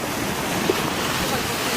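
Black Sea waves break against the shore at Cape Tarkhankut in Crimea, a constant dense wash of surf and wind roaring close by without a clear pause.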